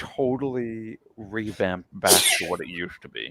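Amid a pro wrestling podcast conversation, one sharp, loud sneeze bursts out partway through, close to the microphone, between stretches of people talking.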